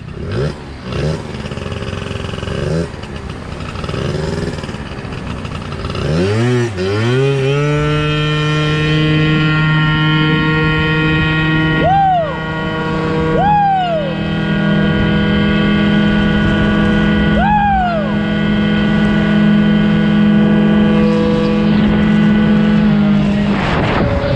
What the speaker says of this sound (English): All right, we're gonna do a top speed run.